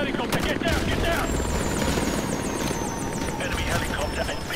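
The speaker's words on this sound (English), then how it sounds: "Enemy helicopter, get down!" An enemy helicopter's rotor chops steadily and loudly close by in Modern Warfare 2 Remastered, with a high whine and scattered game noises layered on top.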